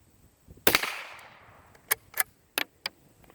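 A Norinco JW45 .22 bolt-action rifle fires Aguila Super Extra ammunition: one sharp nearby report with a short decaying tail, then several lighter metallic clicks and clacks from the bolt being cycled, with no talking.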